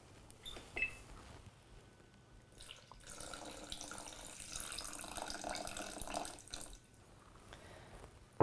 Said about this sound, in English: we're going to add 100 grams of water.